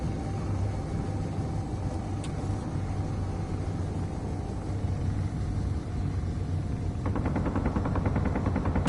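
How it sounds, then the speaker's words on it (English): Enemy ship weapons firing in Space Engineers, rapid rattling bursts of gunfire over a constant low engine rumble, with a denser volley erupting near the end. "they're opening fire"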